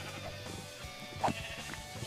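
Sheep bleating in Minecraft, a single short bleat rising briefly above a low, busy game background.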